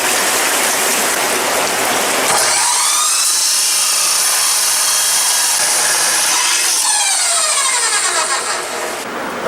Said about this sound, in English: here we are cutting the rebar